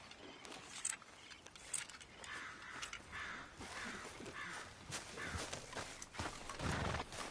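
Horse hooves clip-clop in Red Dead Redemption 2 gameplay, a quiet, irregular rhythm of footfalls under outdoor ambience with crow caws and occasional small noises, no talking.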